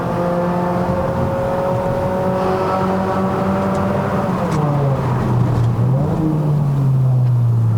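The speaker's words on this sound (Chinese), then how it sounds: "有没有觉得它的降档的很爽哎？" A 2.0-litre Mazda 3 liftback with an automatic gearbox revs hard from inside the cabin on a mountain climb, its engine tone rising steadily, then dipping with a downshift blip and climbing again, loud and continuous with no talk.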